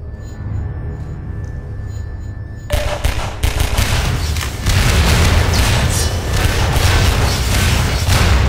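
Barrels explode in Half-Life 2: after a quiet start, a sudden loud blast sets off a rapid chain of booming, crackling detonations that keep rumbling densely to the end.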